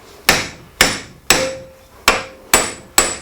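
Six loud, ringing metal blows from a hammer driving wedges to free a seized Swindon vise. They land at an even, deliberate pace about half a second apart, each strike sharp and close.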